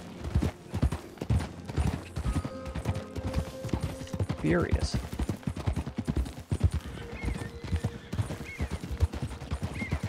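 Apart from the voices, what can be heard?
horse hooves walking in video game Red Dead Redemption 2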